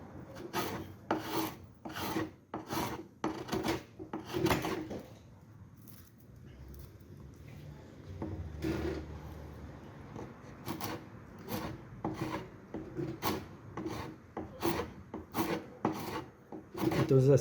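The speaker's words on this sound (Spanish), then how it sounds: "empecé a trabajar con el cepillo de esta manera, desbastando directamente" A hand plane shaves cedar wood in steady, rhythmic strokes, each a crisp rasping swipe, with a brief pause partway through before the strokes resume close to the microphone.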